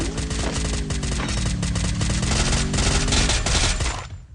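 Rapid automatic gunfire rattles without pause in the Free Fire battle game, loud and close, with dense bursts overlapping before cutting off at the end.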